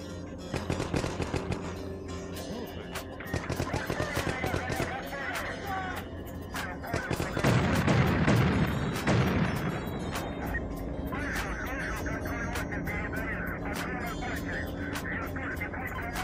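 Gunfire and explosions from the combat game 9th Company: Roots of Terror, with dense rapid bursts and sharp cracks throughout and a heavy booming blast in the middle, loud and busy with voices mixed in.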